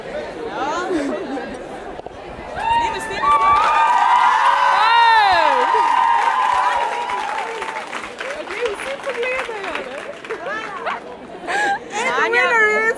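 A crowd at the 2007 Viktor awards red carpet applauds and cheers for Dubla, loud, dense clapping mixed with lively chatter and people talking close by.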